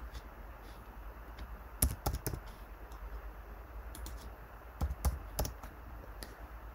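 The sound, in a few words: typing on a computer keyboard to enter a name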